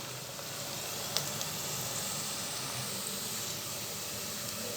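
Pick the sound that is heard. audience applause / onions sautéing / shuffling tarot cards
onions sautéing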